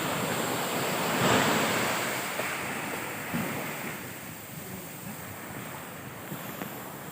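Sea waves surge onto a beach at night in Pangasinan, a steady wash of surf with one louder swell early on, blended with wind rumbling against the microphone.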